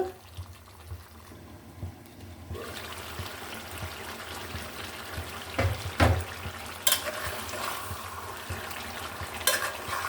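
Duck meat sautés with spices in a pan, with a soft frying sizzle under repeated stirring scrapes and a few heavier knocks of the spoon, heard up close.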